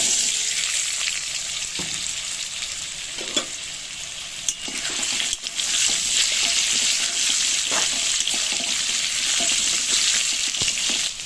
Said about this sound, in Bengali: আলুটা হালকা ভাজা হয়েছে